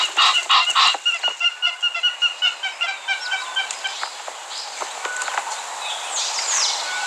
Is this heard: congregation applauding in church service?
no